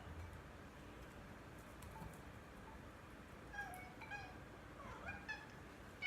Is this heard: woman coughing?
no